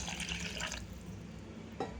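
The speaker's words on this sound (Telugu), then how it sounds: "దీనిలో వాటర్ యాడ్ చేసుకోవాలి" Water poured onto prawns coated with oil, salt and chilli for curry gives a close liquid splash for under a second, then quiet with a brief drip near the end.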